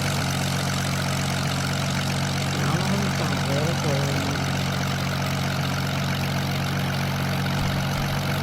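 A plane engine in the Roblox game Build a Plane drones as a steady, unbroken hum with no voices over it.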